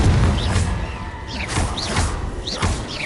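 Confringo spell blasts go off in a Harry Potter video game, a series of heavy thumping booms with whooshing tails repeating every half second or so over a loud, busy game background.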